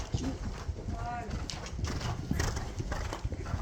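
A horse gallops in an equestrian jumping session, its hooves pounding out a quick rhythmic clip-clop that stays close and loud throughout, with a brief whinny and a rider's voice heard over it.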